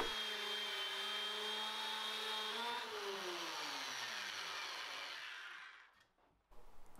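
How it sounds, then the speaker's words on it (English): A dowelling machine bores holes into the wooden base panel of a folding spray booth, its motor whining steadily and dropping in pitch as it loads up, then stopping, with a brief clatter after. "I'm using my dowelling machine to drill some holes along the base and up the back"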